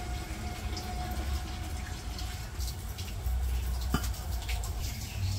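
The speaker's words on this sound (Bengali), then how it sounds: "জগে পানি ভরে নিতেছে ঘরে" Water pours steadily into a jug in a village home, a continuous trickle and gush close by with a faint clank partway through, no voices.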